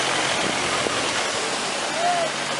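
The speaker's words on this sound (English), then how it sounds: "On the way to Yumthang, beautiful waterfall." A waterfall on the way to Yumthang in North Sikkim, India, roars as a steady, loud wash of falling water throughout.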